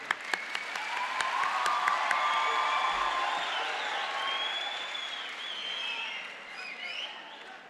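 Audience applause at a career guide expo, a steady sustained clapping from a crowd with a few cheers and whoops mixed in, loud and continuous before slowly tapering.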